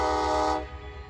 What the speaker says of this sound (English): pulling down with a consist known as the cruise train